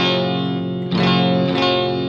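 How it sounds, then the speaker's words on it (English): Sustained electric guitar chords played through a Blues Driver overdrive pedal, mild and transparent, with a fresh strum about halfway and another near the end, ringing and slightly gritty. "Here's the blues driver."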